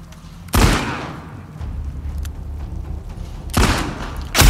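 Gunfire in The Last of Us Part II: two loud, sharp gunshot blasts about three seconds apart, each with a booming tail, over a steady low game rumble.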